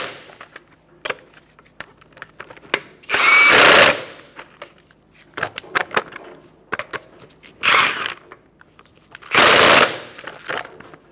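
An impact wrench tightens lug nuts on a 2014-2019 Kia Soul wheel in several loud, rattling bursts. Three long hammering runs and a few short taps are separated by quiet pauses.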